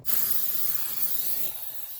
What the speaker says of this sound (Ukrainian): Струшуємо наш балон. Відчиняємо його та розпилюємо.